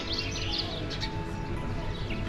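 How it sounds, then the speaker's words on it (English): Birds sing in a peaceful garden setting in Marrakech, with thin chirps at a moderate distance over a steady, dense background hum, without any talk. "All the birds are singing."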